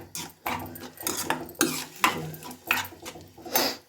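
Grated cucumber frying in a pan, stirred with a spoon in steady clinking scrapes against the metal, about eight to ten close, distinct strokes, with no talk.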